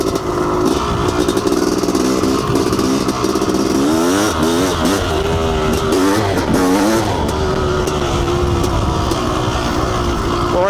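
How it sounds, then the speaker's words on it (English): Loud, close Honda CR500 two-stroke dirt bike engine revving and accelerating on single track, with rising and falling pitch sweeps over a constant raspy roar that never lets up. "Hopefully you guys will be able to hear me over this crazy loud bike."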